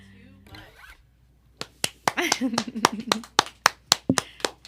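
A person claps sharply in an uneven series of about a dozen hand claps during a virtual concert, close by, with someone talking over part of it.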